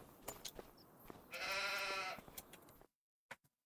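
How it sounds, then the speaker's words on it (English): A single sheep bleats in Farming Simulator, one wavering call of about a second over a soft ambient farm background, followed by silence and two faint clicks. "Let's have a look at these sheep here."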